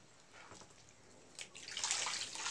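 Water is poured in an outdoor setting in Dalhousie, Himachal Pradesh, starting as faint splashes and swelling into a steady, hissing pour.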